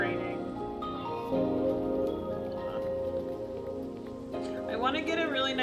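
Rain falls in the video game Minecraft, a steady patter running throughout beneath a person speaking and a few game sounds.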